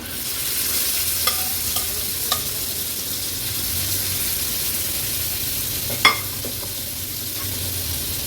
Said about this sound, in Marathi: आता आपण ही हलव्याची गाबोळी आहे ना ह्याच्यात सोडणार आहोत